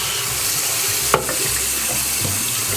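Water runs steadily from a tap while a thrift-store 2007 Baby Alive doll's hair is washed, a constant close hiss with one brief knock partway through and no voices.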